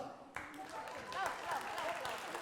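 An audience at a Christian summer gathering claps in a loose, moderate burst that starts abruptly and carries on steadily, with voices and cheering mixed in.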